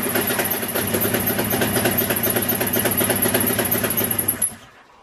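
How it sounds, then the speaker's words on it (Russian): A small engine revs steadily and loud, its rough, rapid pulsing filling the space at close range, then cuts out abruptly near the end, leaving quiet. "двигатель завелся"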